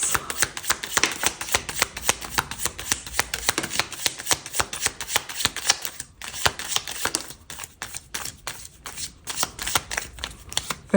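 A deck of love tarot cards is shuffled and handled, with rapid riffling flutters and crisp flicking taps in quick bursts and brief pauses, close and fairly quiet.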